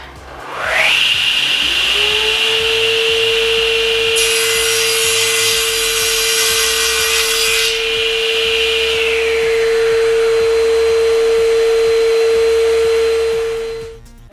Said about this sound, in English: stop the saw, to allow the saw to actually stop, and you'll see the motor brake will actually bring it to a stop very quickly